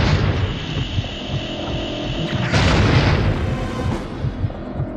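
A Predator's shoulder cannon fires in the video game Aliens versus Predator, giving one heavy booming blast with a throbbing low rumble and a brighter burst midway through, loud and close with no talk over it.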